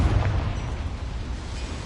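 A Confringo blasting spell explodes in a Hogwarts video game: a loud, booming low-frequency blast at the start that rumbles and settles into a sustained roar lasting the whole moment.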